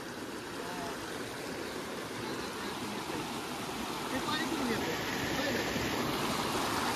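Constant rushing roar of a big waterfall dropping into a deep gorge by a Mahadev temple, unbroken throughout and swelling slightly toward the end.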